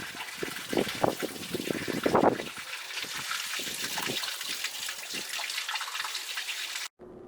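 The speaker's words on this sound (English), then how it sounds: "And fill up my fresh water." Water gushes into a campervan's fresh water tank from a hose, a continuous splashing fill with bubbling surges, fairly close, ending abruptly near the end.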